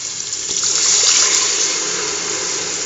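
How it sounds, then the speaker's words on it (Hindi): Water pours in a steady, close gush into a pressure cooker of spiced meat, a continuous splashing rush that holds at an even loudness throughout. "अब हम इसमें एक कप पानी ऐड करेंगे"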